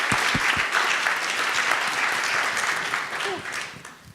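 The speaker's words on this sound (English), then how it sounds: "Maybe a warm round of applause for" A warm round of applause from the audience at a pension conference panel, dense steady clapping filling the hall and loud throughout before tapering off at the end.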